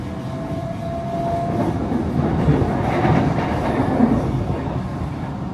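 Interior rumble of a Vancouver SkyTrain car running toward YVR airport, a steady low roar with rhythmic wheel clatter and faint whining tones, close and continuous with no talking.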